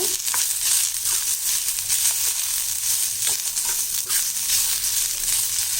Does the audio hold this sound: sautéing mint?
yes